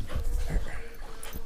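A dog whimpers and yips in short, soft bursts close by, with some panting and faint background noise.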